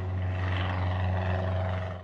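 A little red airplane takes off as a storybook sound effect, its steady engine drone loud and continuous with a low hum throughout, fading slightly at the end.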